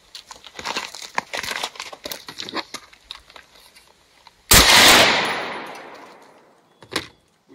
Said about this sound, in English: then I'm gonna fire the weapon